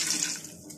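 Water poured into a pot of chickpea stock for chana pulao, a short splashy pour that fades quickly.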